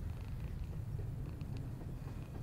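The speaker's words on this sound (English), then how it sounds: "I hear a cat." A cat purrs in the horror video game Summer of '58, a soft, steady, close rumbling purr with no talk over it.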